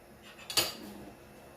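A spoon scrapes and clinks once against a metal pot of boiling arroz caldo, a brief stirring sound and then quiet.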